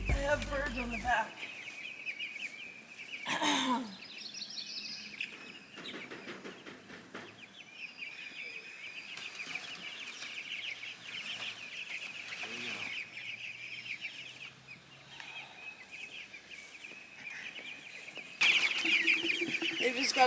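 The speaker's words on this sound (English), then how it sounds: "I have birds on the back." Meat chickens being moved for the first time cluck and squawk softly and fairly close, with scattered shuffling and handling noises and people talking at times.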